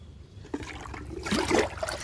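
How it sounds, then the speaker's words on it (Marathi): Water from a pipe splashes and trickles into a container, growing louder and fuller partway through, with a steady pouring rush. "हे पाणी आता याच्यात भरून भरून ठेवायचं"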